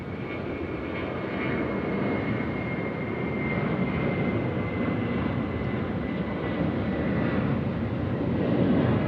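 A large passenger jet takes off at Sydney Airport, its engines producing a loud, steady broadband roar that swells slightly as it climbs, heard from a distance with no talk.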